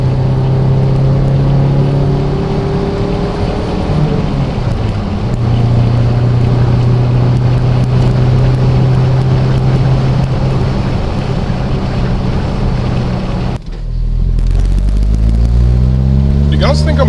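A Toyota SW20 MR2 engine pulls hard in 4th gear, a loud, steady drone rising in pitch for many seconds with a slight exhaust leak at the catalytic converter, then a sudden lift-off and rev drop near the end.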